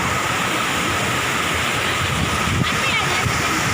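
Water flowing in a channel toward a neighbouring village, a dense continuous rush heard close and loud throughout, steady with no breaks.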